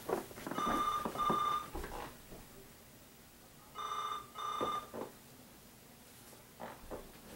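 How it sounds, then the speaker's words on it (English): A phone rings near a vintage 1980s Kenmore convertible sewing machine, model 158.1345, giving two clear bursts of repeated electronic ringing with a pause between them, then fading to quiet room tone. "My phone is ringing."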